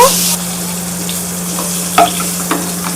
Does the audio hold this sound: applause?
no